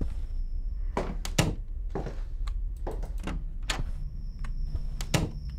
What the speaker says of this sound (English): Is somebody banging on my window?